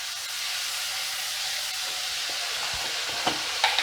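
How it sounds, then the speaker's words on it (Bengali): Paneer pasanda masala is stirred in a pan over a medium gas flame, giving a steady soft sizzle and hiss with a few scraping knocks of the spoon toward the end, close and without voices. "খুব ভালো করে নাড়াচাড়া করে মেশাচ্ছি।"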